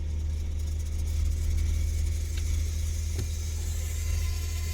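A car with a slipping transmission and burned fluid runs with a steady, loud engine drone and a constant whine layered over it, close up and unbroken throughout.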